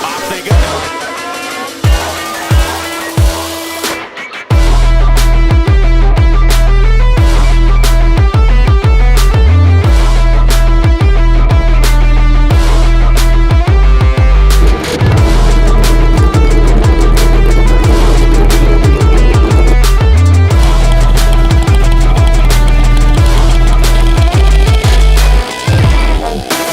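Suzuki Hayabusa drag racing motorcycles launching hard down the strip, a loud roaring engine note with rapid, repeated rev cuts and shifts that holds for the rest of the run after a few quieter pops at the start.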